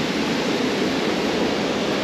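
Steady, dense rushing water from a waterfall in Victoria Park, with ice around, roars without pause, a broad constant wash of falling water close by with no voices.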